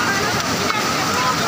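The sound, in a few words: flood water rushing near Mahad, Raigad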